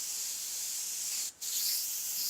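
An airbrush sprays white paint from about 4 to 5 centimetres away, shading a freehand skull: a steady, close airy hiss that runs continuously with one brief break.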